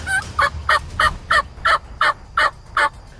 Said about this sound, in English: you can actually see that gobbler gobbling in the fog